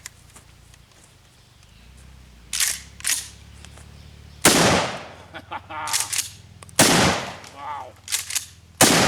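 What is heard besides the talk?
Mossberg shotgun firing double-aught buckshot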